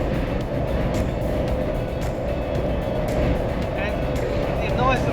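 Yokohama Geolandar G017 AT/XD all-terrain tyres on Stockton rims give a steady low road rumble from inside a vehicle in city driving, heard faintly beneath someone talking throughout.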